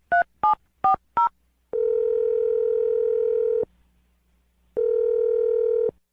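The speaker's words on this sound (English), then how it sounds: "I'm going to dial her phone number right now." Four quick touch-tone beeps of a telephone number being dialed, then a long steady ringback-style tone, a short silence and a second tone, clean and close on the line.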